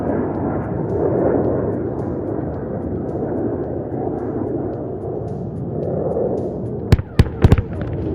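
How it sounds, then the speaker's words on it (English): Fragmentation bombs dropped by an air force aircraft explode on a ground target at a firepower demonstration, heard as a long, distant rumbling roar followed by a few sharp close cracks near the end. "The fragmentation bombs have shredded the target to bits."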